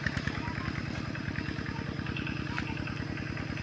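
A two-wheel walking tractor engine chugs steadily nearby as it drives up, a fast, even single-cylinder thumping throughout with faint background voices.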